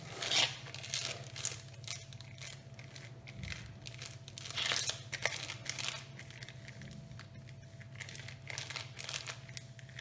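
Fingers rub and spread potato papad dough across a polythene sheet, making soft crinkling, scraping plastic sounds in irregular strokes over a faint steady hum.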